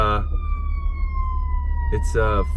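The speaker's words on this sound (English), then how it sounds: "Again, here's some sirens." A steady fire truck siren tone holds through the clip, with brief voices near the start and end over a low rumble of traffic.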